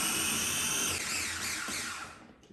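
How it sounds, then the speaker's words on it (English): A small food processor grinds cucumbers for pet treats with a loud, high-pitched whirring motor that wavers as the pieces break down, then winds down and stops; no speech. "let's put these guys in the food processor because you want to kind of break them down a little bit"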